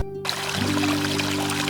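Water rushing in a stream beside a small roadside bridge in Darjeeling, a steady broadband wash that starts abruptly after a brief quiet moment and continues close and even, with a low mechanical hum running underneath.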